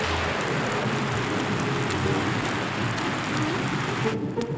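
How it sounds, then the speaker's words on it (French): Heavy rain pours steadily and loudly, a dense unbroken hiss filling the whole stretch, with a low rumble underneath and a slight drop near the very end. "il pleut à verse"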